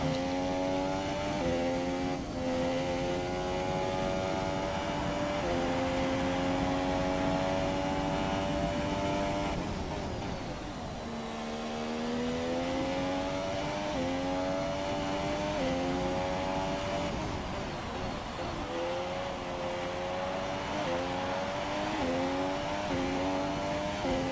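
Several race cars in an F1 video game's qualifying session, Spain track, engines whining continuously with rising and falling pitch as they accelerate and shift, loud and sustained throughout with no talking.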